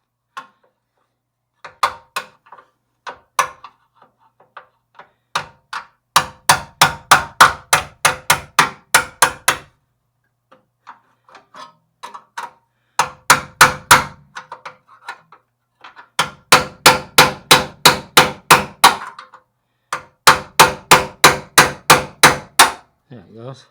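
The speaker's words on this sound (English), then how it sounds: "a little judicial hammer and dolly work will fix that up" Hammer and dolly work on a crashed Toyota's body panel: bursts of rapid, evenly spaced metallic blows, loud and close, in several long runs separated by short pauses.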